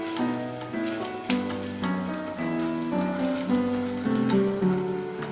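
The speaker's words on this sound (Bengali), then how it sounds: "হাতায় করে অল্প অল্প করে ব্যাটার নিয়ে আমি এই গরম তেলের মধ্যে দিয়ে দিচ্ছি" Mango malpua batter fries in hot oil, a steady crackling sizzle like rain with small pops throughout, close and continuous, with faint music in the background.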